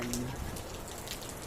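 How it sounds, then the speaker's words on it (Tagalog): Steady rain patters down with a dense, continuous hiss and scattered drops, fairly loud and close, no voices. "Ngayon, lakas ang ulan."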